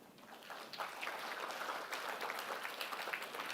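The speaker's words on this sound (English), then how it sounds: "Give them a big round of applause." Audience applause at an XR industry conference hall, a steady wash of clapping from a crowd, moderately distant and sustained without speech.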